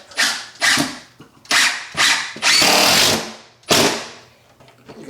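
An impact driver drives screws into a kitchen cabinet during installation, with about six loud close bursts of whirring and hammering, one burst longer than the rest, and short pauses between them.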